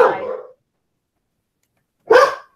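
A pet dog barking indoors at people walking down the street outside, two loud, close barks with a silent gap between them.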